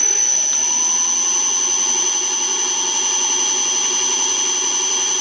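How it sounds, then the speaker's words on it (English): An upgraded motor on a PM727M milling machine runs steadily at about 2500 RPM, a constant high-pitched whine with tonal hum, loud and close, with no talking. "I can tell already that the motor's a lot quieter."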